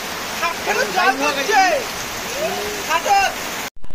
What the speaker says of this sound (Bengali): পুরো একটা বৃষ্টি হচ্ছে